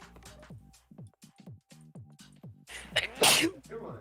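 A single sharp sneeze bursts out near the end, loud and close, after a stretch of voiced chatter from characters in an animated episode.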